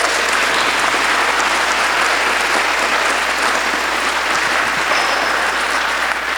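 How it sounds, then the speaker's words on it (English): A crowd claps at a school Veterans Day celebration for the speakers, a dense, loud, sustained wash of applause that stays level throughout with no voices on top. "Let's give them another round of applause."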